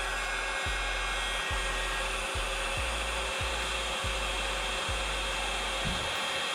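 Continuous loud blowing roar of a heat gun shrinking heat-shrink tubing on wiring, close and steady, with a low rhythmic thumping pulse repeating about every second underneath.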